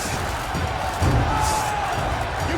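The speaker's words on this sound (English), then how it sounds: "Crowd, race a ruckus!" An arena crowd in The Witcher 3: Blood and Wine roars and cheers in a steady, moderately loud wash, with a swelling burst of noise about midway and faint voices mixed in.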